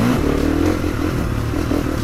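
A GASGAS dirt bike engine runs loud and close in a steady, throbbing drone with slight rises in revs, continuous throughout and with no talking.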